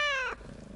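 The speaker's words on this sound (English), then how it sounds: "He does a meow, then purrs before he speaks." A cat character in the video game DC Universe Online gives a short, clear meow that slides downward, then trails into a low, soft purr.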